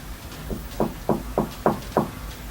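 Six evenly spaced knocks rap on a painted-over door, muffled and hollow as if heard from the far side, steady and moderately loud over faint background hiss.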